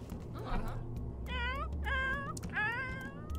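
A cat in The Sims 4 game meows twice in quick succession, clear and close, each call rising then falling, with a short scuffle before them and no speech.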